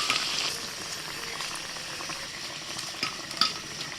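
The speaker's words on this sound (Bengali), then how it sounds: "একটা একটা করে আলু এইভাবে একটু উল্টে পাল্টে ভেজে নেব" Potatoes fry in oil in a kadai for chicken biryani, a constant bright sizzle with soft scraping and a few clinks as the pieces are turned one by one, close and alone without talk.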